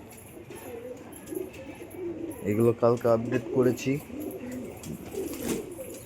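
Pigeons in a rooftop pigeon house give soft, rolling coos in a short burst close by, while someone talks over and around them.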